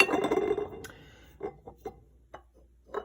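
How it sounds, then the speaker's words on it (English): Glass bottles of cooking oils, including avocado oil, clink against one another on a kitchen counter: a rustling knock at first, then several small, sharp, scattered clinks, fairly faint. "Sorry for the noisy glass."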